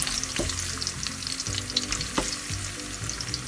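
Ginger sizzles and fries in hot oil in a pan while cooking ginisang palaka (sautéed frog with bitter gourd), a steady loud crackle with a few sharp stirring knocks, no voices.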